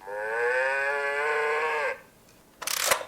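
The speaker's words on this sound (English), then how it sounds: "The cow says." A cow gives one long, loud, steady moo lasting nearly two seconds. It stops, and after a short quiet gap a brief noisy clatter follows.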